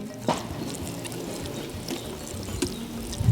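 Water poured onto a seedbed, a steady close pouring and trickling wash with a few brief louder splashes, heard alone.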